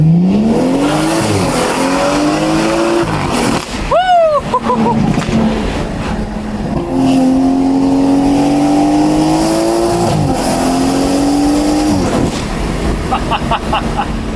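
A BMW M240i (F22) with a B58 engine, free-flow downpipes and aftermarket exhaust revs loudly and repeatedly, pitch climbing and dropping with throaty exhaust roar, close and continuous.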